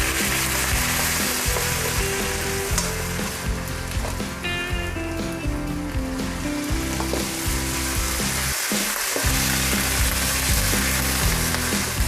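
Pork spare ribs fry steadily in a pan, a continuous loud sizzle with crackling spatter throughout, no voices over it.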